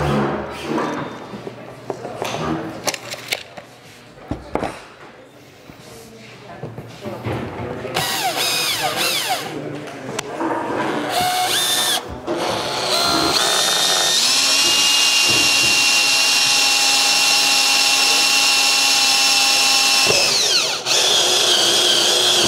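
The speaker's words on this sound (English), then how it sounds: "And when we drill this bottom hole, I think you have to go really slow" A hole saw on a power drill cuts a hole into a plastic rain barrel, starting with halting bursts and bumps, then a loud, sustained whining grind before stopping.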